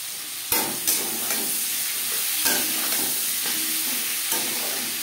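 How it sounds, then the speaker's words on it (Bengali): Onion, tomato and garlic stir-fried in a pan for a Bengali jackfruit and prawn dish, a steady close sizzle with several sharp scrapes and knocks of the spoon against the pan, and no voices. "পেঁয়াজের সাথে টমেটো রসুন বেশ ভালো করে মিক্স করে দেবো।"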